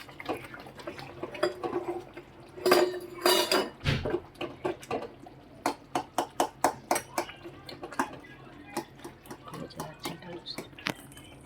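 Peanut potato khichdi stirred with a spoon in a pot, giving a run of sharp metallic clinks and scrapes that come in quick irregular strokes and then settle into a steady tapping rhythm, close and moderately loud.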